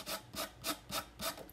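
A sanding block rubs back and forth across a wooden surface in five steady, rasping strokes, close and fairly quiet.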